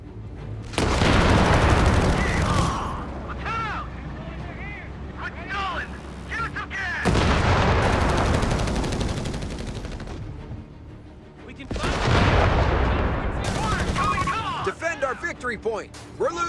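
Heavy machine gun fire from a .50 cal MG in the World War II strategy game Company of Heroes 3 comes in long, loud bursts separated by short lulls, mixed with booms and with voices calling out over the battle.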